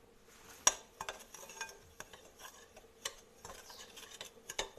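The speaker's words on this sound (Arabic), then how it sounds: "صافي كنخلطها مزيان باش يدخلوها هاد العناصر" A spoon stirs semolina batter mixed with powdered milk for harcha, giving soft, faint scraping and ticking strokes at an uneven rhythm, close by with no talk.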